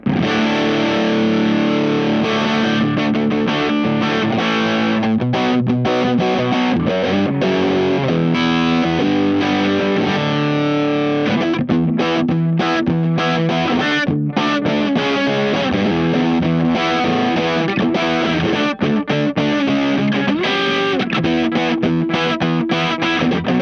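An electric guitar plays through a JCM800-style amp-in-a-box distortion pedal, giving a thick, fuzzy, saturated tone. Chords and riffs run continuously and loud, with no voices.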